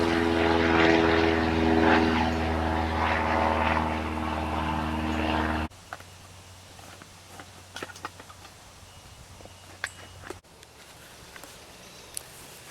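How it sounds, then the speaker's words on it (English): Propeller airplane flying overhead, a loud droning engine roar with steady low tones for several seconds before cutting off abruptly, leaving quiet outdoor background with scattered small clicks and knocks. "There's a plane."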